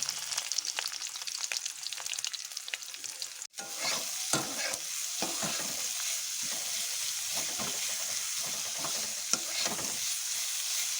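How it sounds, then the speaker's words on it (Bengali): Chopped onions sizzling and frying in white cooking oil in a pan for a Bengali stuffed pointed gourd (potoler dorma) dish, with a steady bright crackle, a brief stop, then continued sizzling and occasional stirring scrapes; no talk. "এখানে আমি সাদা তেল ইউজ করেছি এবার আমি পেঁয়াজ দিয়ে দেবো"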